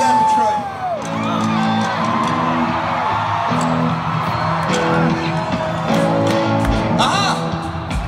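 An arena crowd at a concert in Detroit's Little Caesars Arena screams and whoops loudly and steadily, a dense roar of many voices with sharper shouts rising in swells over the full length.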